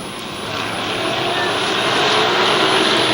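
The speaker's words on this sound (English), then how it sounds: "A real drag race off that 4th turn." SK modified race cars roar together at Waterford Speedbowl, a dense, steady wall of engine noise building slightly and sustained throughout, loud and close with no clear pauses.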